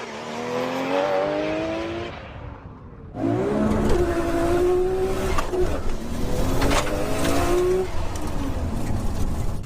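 A 20-year-old manual Nissan GTR launches hard in a 0-60 run, engine revving and rising through gears with a brief lull at a shift, loud and close, with rough tire and wind noise.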